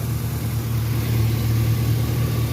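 A 5.3 V8 truck with ported heads, a street tune and a straight pipe exhaust idles up close, a steady deep rumbling drone with no revving and no voices.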